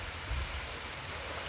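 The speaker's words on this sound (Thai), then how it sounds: "ตอนนี้ก็ฝนตก" Rain falls outdoors as a steady, even hiss with a low rumbling undertone, moderately loud and without any voices.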